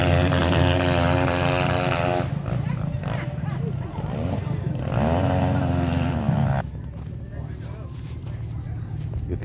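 A Kawasaki motorcycle at an AMA championship hillclimb in Monson, Massachusetts revs loudly with rising and falling engine roar, then the sound drops off, with a public-address announcer talking over it.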